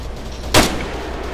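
A single loud burst from a heavy machine gun in a military shooter game, a short sharp report over steady low rumble, standing alone.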